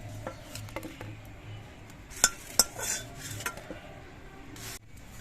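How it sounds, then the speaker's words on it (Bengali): Fried eggplant slices cooked without oil are lifted out of a pan, with light scraping, a few crisp metallic clinks of a utensil against the pan, and soft rubbing sounds, close and fairly quiet. "এবার এই বেগুন ভাজাগুলো আমি তুলে নিচ্ছি"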